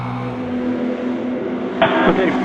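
A 1969 Porsche 917K race car is driven at speed on track at the Porsche Rennsport Reunion V, its engine droning loudly with a steady buzzing tone before a sharper burst of mechanical noise near the end.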